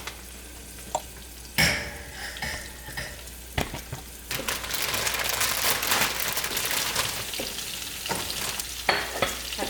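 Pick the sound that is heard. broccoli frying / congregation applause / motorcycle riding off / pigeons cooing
broccoli frying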